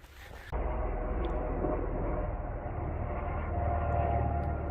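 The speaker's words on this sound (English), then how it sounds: "Lots of helicopters." A loud drone of several helicopters starts abruptly after a brief moment and stays steady and close, a continuous rotor roar overhead on the Arizona Trail.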